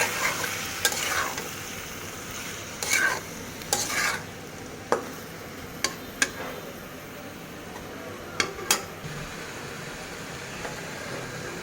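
Teasel gourd and small river fish frying in oil in a wok, with a steady sizzle under scattered sharp scrapes and clinks of a spatula stirring, close and without talk.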